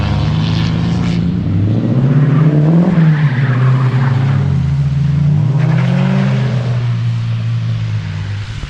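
Car doing a burnout on a snowy, lightly gritted road at night: a loud, sustained engine roar rising and falling in pitch with tyre spin, close and continuous for the whole stretch.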